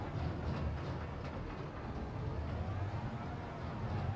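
A train rolls along in the Farming Simulator 25 video game on a Montana map, a steady low rumble with faint rhythmic clatter that continues without a break, close and moderately loud.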